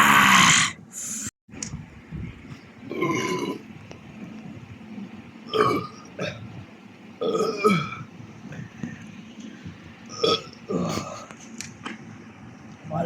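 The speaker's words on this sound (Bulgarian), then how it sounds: "това беше нашето оригване" Loud, drawn-out human burps repeat through the stretch, several deep belches with gurgling, snore-like texture, up close and with no talking, recorded indoors and then outside.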